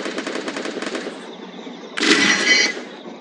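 Rapid automatic gunfire from a video game during headshot attempts, a steady burst of shots followed by a louder, denser volley near the end, with no talking.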